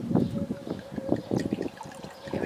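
Wine trickles and splashes into a glass in short bursts for a couple of seconds, close and fairly clear, with no voices.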